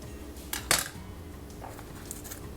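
A knife cuts through thick plantains on a board, with a sharp clatter of metal against the surface followed by softer, scattered tapping and scraping, close up and without talk.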